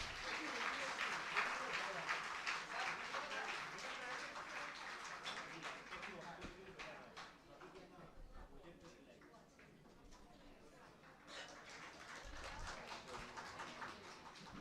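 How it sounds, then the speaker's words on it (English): Conference audience in a hall gives a long, steady round of applause, fairly faint and distant, with talk mixed in as the clapping thins toward the middle and picks up again. "Again, a big round of applause,"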